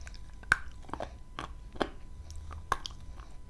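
Pink Zhetysai variety bitten and chewed close up gives three crisp crunches, then softer wet chewing in between, with no talking.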